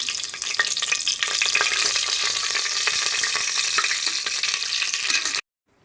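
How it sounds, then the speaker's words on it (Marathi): Cinnamon sticks and bay leaves fry in oil with a bright, dense crackling sizzle and occasional stirring clicks. It runs steadily for about five seconds and then cuts off abruptly to silence. "ते आता व्यवस्थित तेलामध्ये परतून घेते आणि ही दालचिनीची पानं घालते"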